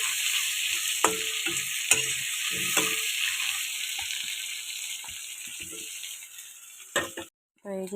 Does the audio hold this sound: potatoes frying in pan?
yes